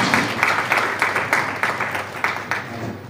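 Audience applause at an anti-corruption gathering in Kano, a steady wash of many hands clapping with rhythmic pulses, fairly loud and without talk.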